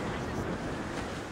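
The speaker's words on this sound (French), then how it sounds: "Le vent devient vicieux." Wind and sea waves rush around a sailing ship at sea in the video game Assassin's Creed Rogue, a dense, constant roar of gusts and surf with no gaps.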